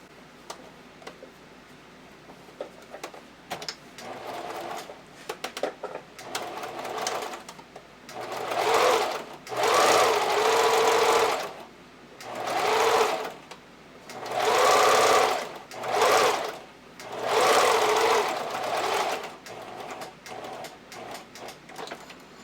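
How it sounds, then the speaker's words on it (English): Domestic sewing machine running a zigzag stitch to attach elastic onto a bra, several close, loud bursts of rapid mechanical whirring separated by short pauses and light clicks. "use a zigzag stitch to sew it in place"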